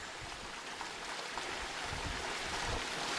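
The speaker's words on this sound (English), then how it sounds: "there's only a trickle of water going over" A thin trickle of water spilling over an old dam in the Yorkshire Dales makes a faint, steady hiss and wash throughout, alone, with no voices.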